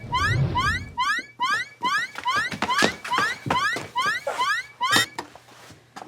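An alarm goes off somewhere inside a hub, sounding as a rapid series of rising, chirping electronic sweeps repeated in quick bursts, fairly loud and alone without speech.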